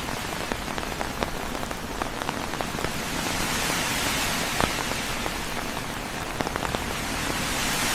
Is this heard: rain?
yes